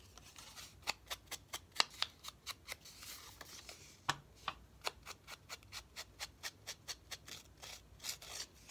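Scissors snip through Prima craft paper in a steady run of about two dozen quick, crisp cuts, close and fairly quiet, with no talking.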